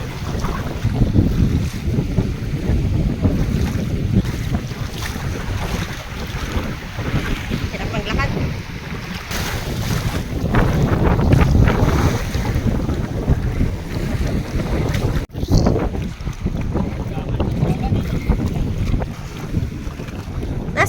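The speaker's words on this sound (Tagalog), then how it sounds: "Malakas ang hangin." Strong wind roars and buffets the microphone without letup, a heavy low rumble with gusts, over what sounds like open water.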